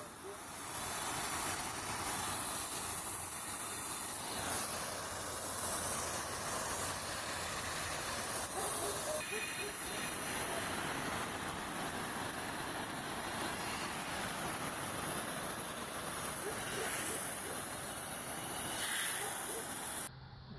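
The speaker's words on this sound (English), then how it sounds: "So I'm gonna go ahead and rinse it off and see what it looks like underneath the rust dissolver." Water sprays in a steady, loud hiss as rust dissolver is rinsed off a wrought iron gate, continuous for the whole stretch with slight shifts as the stream moves.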